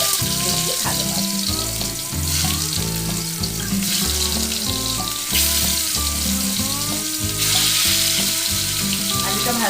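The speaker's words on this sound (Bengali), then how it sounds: "আলুটা ভাজতে দিলাম" Potatoes frying in hot oil give a steady, fairly loud sizzle that runs throughout the clip, partly masked by tonal background music.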